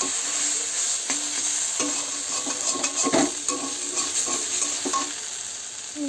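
Sugar is stirred into a sizzling taro mixture in a pan. A constant close frying hiss runs throughout, punctuated by repeated clinks and scrapes of a spatula against the metal.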